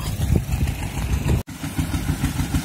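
A modified diesel engine drives a used, modified NS water pump irrigating a rice field, chugging steadily and close with a rapid pulsing rhythm and one momentary dropout midway.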